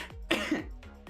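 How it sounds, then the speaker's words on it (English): A person coughs a few times in quick succession, close and moderately loud, with short throaty bursts and brief gaps between them. "Sorry, by the way, for the coughing."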